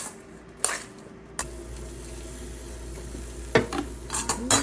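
Red peppers tossed into a preheated air fryer basket give a few soft clattering knocks and rustles over a steady low fan hum, close and fairly quiet, with no talking.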